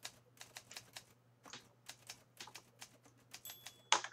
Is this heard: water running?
no